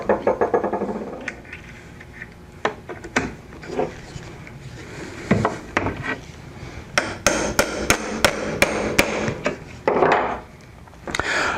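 Metal hammer blows drive a rove onto a nail in wood: sharp close taps, irregular at first, then a quick rhythmic run of strikes, with some rubbing and handling in between.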